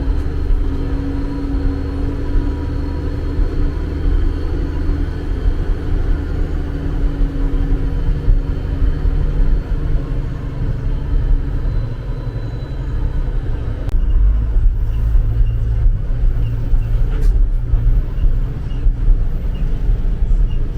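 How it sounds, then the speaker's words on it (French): A 10-tonne heavy truck grinding along an off-road 4x4 track, giving a steady, loud, low engine rumble throughout that shifts to a deeper, rougher drone partway through. "C'est quand même un poids lourd de 10 tonnes qu'on amène dans les chemins."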